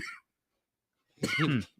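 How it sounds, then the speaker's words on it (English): Two short, harsh coughs separated by a pause, the second longer and rougher, close and fairly loud. "those are cough tremors"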